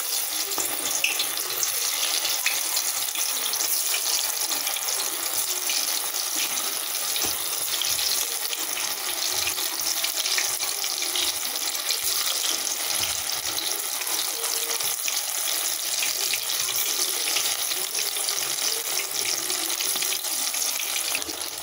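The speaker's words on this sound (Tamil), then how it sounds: "இப்போ நான் இதை எண்ணெயில் பொரித்து எடுக்க போகிறேன்." Bitter gourd pieces, coated for a chilli dish, deep-frying in hot oil in a kadai on a gas stove: a steady, dense sizzle and crackle that holds evenly close by for the whole stretch, with no talking.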